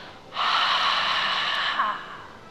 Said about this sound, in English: Open mouth, exhale, release, breathe it out.